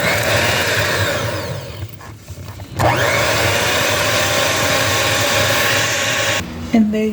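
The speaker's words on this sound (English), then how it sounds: "we're going to mix this on a low speed because, again, we don't want any flour splattering all the place" Electric mixer running steadily on low speed through butter, sugar, flour and cinnamon for a cinnamon roll paste, a continuous close whirring hum with a brief dip partway through and a knock near the end.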